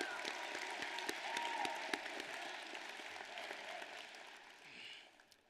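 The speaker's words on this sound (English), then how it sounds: "Give yourselves a round of applause." Graduating students at the East High School 2024 graduation ceremony clap together in a sustained, fairly distant wash of applause that thins out and fades toward the end.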